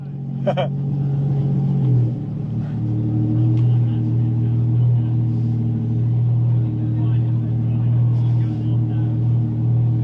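A car fitted with a Valvetronic valved exhaust rumbles at idle at Monterey Car Week, a steady deep low drone after a brief rev change early on, with a short sharp knock near the start.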